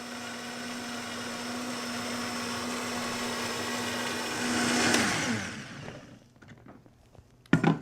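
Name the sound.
blender pureeing roasted garlic, poblanos and tomatoes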